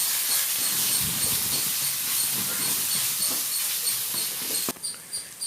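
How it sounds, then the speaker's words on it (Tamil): Ginger and garlic sauté with onions in a pan, giving a steady close hiss and sizzle, broken near the end by a sharp clank and a few soft knocks. "இப்போ இஞ்சி பூண்டு கொஞ்சம் போட்டுக்கலாம். நல்லா வதக்கி விட்டுலாம்."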